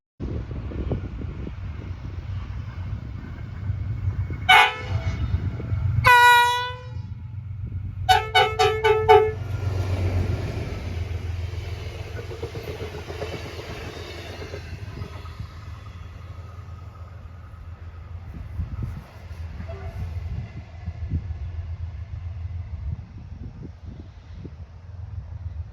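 An Aurizon-run Inlander train passes with wind and low engine rumble, sounding several loud horn blasts, a short toot then longer multi-tone blares, before the rumble fades into the distance.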